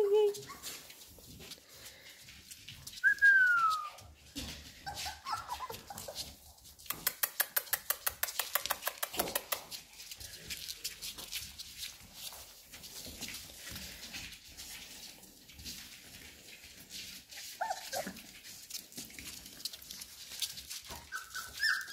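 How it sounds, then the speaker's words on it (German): Puppies whimpering and yapping up close, with short high whines, a burst of rapid yips in the middle and scattered squeaks, while people talk softly nearby. "Guck mal, der Polly verarscht gerade die Welpen."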